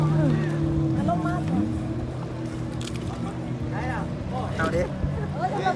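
Jet ski riding on the Mekong River in Savannakhet, Laos, a continuous loud engine drone with shifting pitch and water rush, with voices talking over it.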